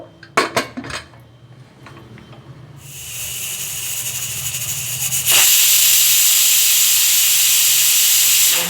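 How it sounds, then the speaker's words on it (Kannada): A pressure cooker cooking avarekalu upsaaru clatters with a few sharp metallic clinks, then starts hissing steam that builds and bursts into a loud, sustained whistle close by. "ವಿಶಲ್ ಆಗೈತೆ ನೋಡಿ"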